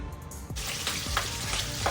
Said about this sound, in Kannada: ಚಿಕ್ಕ ಫ್ಲೇಮಲ್ಲಿ ನಾನು ಬೇಯಿಸ್ತೀನಲ್ಲ ಇನ್ನು ಚಿಲ್ಲಿ ಪೋರ್ಕ್ ಮಾಡ್ತೀನಲ್ಲ